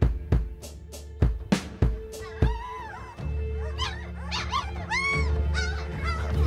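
A DDR German Shepherd puppy, sturdy and energetic, gives several sharp close barks and yips in the first seconds, then shifts into high whimpers and whining cries that rise and fall continuously.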